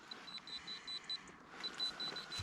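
A cheap Temu metal detecting pinpointer sounds a series of quick, high, thin beeps in short bursts, pausing briefly before beeping again, quiet and close outdoors.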